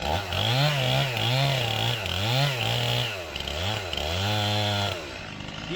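A chainsaw cuts into a tree behind the face notch toward the hinge, its engine loud and close, revving up and down in a repeating wavering rhythm throughout.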